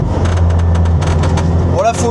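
Alpine A110 Schirmer GT sports car engine droning steadily on a public road, a low constant hum with light throttle, under a voice talking throughout.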